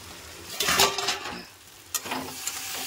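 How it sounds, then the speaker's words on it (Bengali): Vegetable curry stirred in a pan after the lid comes off, a few scraping, clattering strokes over a soft sizzle, close and moderately loud, with a short pause before a second burst of stirring. "এবার আমি ঢাকনাটাকে খুলে আমি নেড়ে দেবো।"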